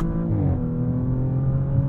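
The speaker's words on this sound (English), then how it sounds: "You pull the paddle and wait pretty much a full second for it to actually change gear." A 2023 Audi S7 Sport S engine holds a steady hum through a sluggish paddle-shift gear change, with its pitch easing down slightly as the new gear engages. The sound stays moderately loud and even inside the cabin.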